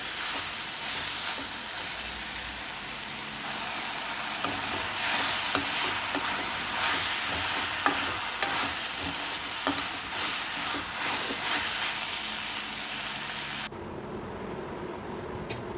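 Fresh coriander sautés in a hot pan, a steady close sizzle broken by repeated scraping and clinking strokes as it is stirred, continuing for the whole stretch before the sizzle thins out near the end, with no voices.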